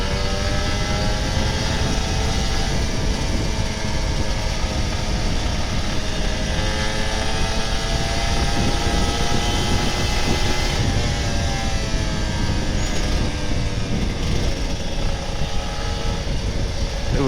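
Old Kawasaki Ninja RR 150 two-stroke motorcycle engine while riding in third gear, a loud continuous buzzing drone with steady pitch and rushing wind, heard up close throughout.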